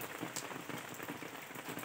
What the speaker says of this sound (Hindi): पहली बारिश।